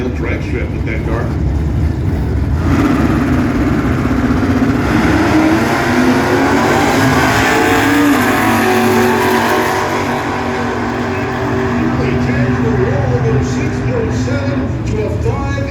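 Drag racing cars at a car show strip, a Mustang among them, roar as they accelerate. The engines are loud and continuous, swelling with rising revs, and a commentator talks over them.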